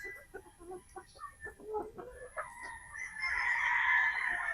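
Gamefowl pullets, a 3/4 Sweater 1/4 Boston cross on a game farm, cluck in short repeated bursts nearby, with someone talking over them and a louder squawk near the end.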